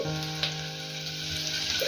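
Steady, close sizzling of fenugreek seed tempering hitting hot oil, a continuous crackling hiss with a few brief sharper pops.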